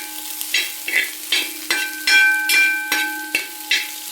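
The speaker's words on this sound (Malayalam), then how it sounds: "നന്നായിട്ട് ഇളക്കി കൊടുക്കാം" A spatula stirs carrots and beans frying in a pan, giving about eight regular scraping strokes over a steady sizzle, close and clear, with a faint tonal hum running underneath and no voices.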